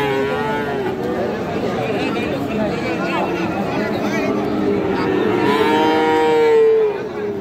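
A young bull calf moos loudly and long at a busy cattle market in Raniganj, its drawn-out call rising over a steady babble of people talking nearby.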